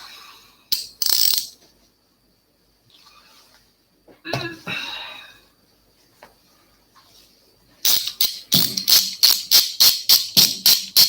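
Socket wrench ratchet clicking during seal replacement on an HW100, first as a couple of isolated clicks and scraping handling noises, then a steady series of about a dozen sharp, close ratchet clicks at the end.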